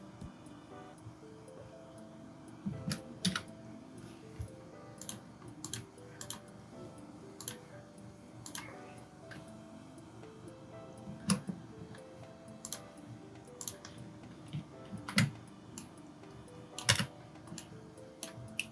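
Light, scattered keystrokes on a computer keyboard during Photoshop work, tapping in short irregular clusters with gaps between them, fairly quiet and close.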